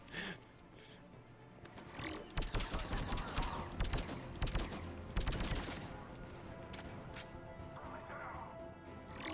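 Gunfire from the Mass Effect Legendary Edition video game rattles in dense bursts, with loud volleys clustered through the middle over a busy battle soundscape of game music and effects.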